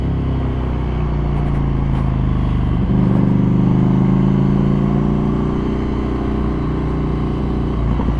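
A 2020 Ducati Scrambler 800 Icon with a Termignoni carbon exhaust and remapped ECU, its engine running loud and close with a deep, steady throb that lifts slightly in pitch mid-way and settles again.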